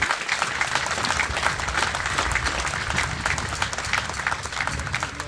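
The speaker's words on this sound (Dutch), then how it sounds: "ik wil dan ook graag een groot applaus voor al die vrijwilligers en die sponsoren" An audience at a village festival opening in Schimmert applauds continuously, a dense, even crowd of clapping hands that keeps up throughout.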